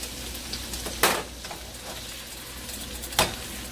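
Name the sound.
onions frying in a pan for chicken fried rice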